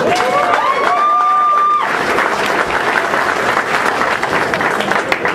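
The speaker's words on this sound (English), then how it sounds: "give him a round of applause" A seated audience breaks into loud, sustained applause and some cheering to welcome speaker Dan Wilson onto the stage for a health talk, the clapping dense and continuous; tonal sounds overlap the opening couple of seconds.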